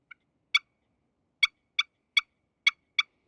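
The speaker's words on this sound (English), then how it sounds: "you can really change the sound by adjusting the pressure you're putting on the striker" Sharp, high-pitched clucks from a turkey pot call, pitch set by striker pressure, about six or seven short notes spaced irregularly against near silence.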